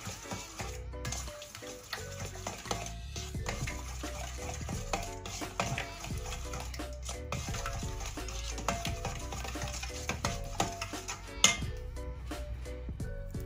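Chicken leg and thigh pieces being mixed with seasoning and all-purpose spice by hand in a bowl: soft, irregular wet squelching and clicking, fairly close and quiet, with no talk.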